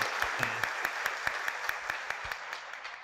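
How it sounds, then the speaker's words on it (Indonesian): Audience applause on the Indonesian talk show Kick Andy for Luhut Binsar Panjaitan, a steady wash of many hands clapping with a few sharper individual claps standing out, fading slightly toward the end. "Baik, kita berikan aplaus untuk Pak Luhut Binsar Panjaitan."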